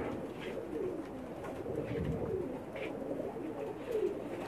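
Pigeons, including a pair of Pakistani pigeons, coo in soft, low, throaty repeated calls that overlap one another over a steady background murmur, at moderate distance.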